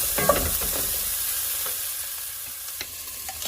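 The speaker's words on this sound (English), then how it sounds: "right now the residual heat is enough to saute these onions" Onions sauteing in a pot on residual heat with the burner off, a soft, moderately quiet sizzle with a few sharp clicks and scrapes early on, then a gentler hiss fading slightly, no talking.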